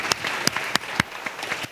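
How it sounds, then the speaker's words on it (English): An audience at a startup fireside chat claps for a speaker, a fairly quiet, short burst of applause with a few sharper individual claps standing out. "I want to just give her a clap."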